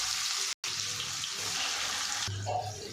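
Chopped onion dropped into hot oil already seasoned with cumin and mustard seeds for a ladyfinger (okra) poriyal, giving a loud, steady hiss of sizzling that runs without a break and eases slightly near the end.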